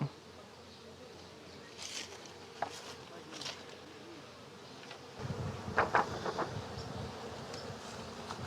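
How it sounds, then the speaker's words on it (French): Honey bees buzzing in a hive colony, a dense close drone of many insects that swells louder halfway through, with occasional faint taps and handling noises. "quand on voit que les abeilles, elles sont bien fixées dans la colonie"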